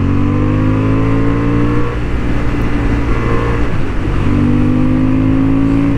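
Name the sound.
Honda Hornet 750 motorcycle riding on a racing track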